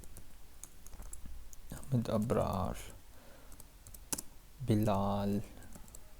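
Keys clatter in quick bursts on a computer keyboard during a beginner Python coding lesson, the clicks sitting between stretches of a man's speech.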